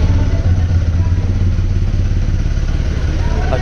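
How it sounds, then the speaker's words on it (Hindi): A 2023 TVS Apache RTR 200 4V motorcycle engine starts and settles into a steady, deep, loud idle close by, with a continuous heavy bass rumble throughout. "एक बार स्टार्ट करके दिखाते हैं भाई, अगर स्टार्ट हो गई तो अच्छी बात है।"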